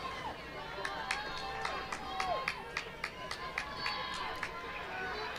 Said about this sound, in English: Can hear some Dartmouth fans down on the shore here on the Cambridge side.